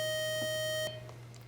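A quiz-competition buzzer gives a single steady electronic beep held for under a second, loud and close, then cuts off into quiet room noise.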